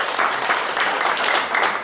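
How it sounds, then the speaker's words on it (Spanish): Audience at a school event in Puerto Bermúdez applauding the participants, dense, sustained clapping from a crowd indoors, fairly loud and even throughout. "fuertes aplausos para cada uno de ustedes quienes han podido venir y participar de esta actividad"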